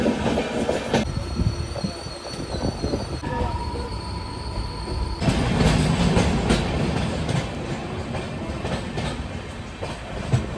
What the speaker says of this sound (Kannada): ಸೊ ಟ್ರೈನ್ ಇವಾಗ ಜಸ್ಟ್ ರೀಚ್ ಆಯಿತು.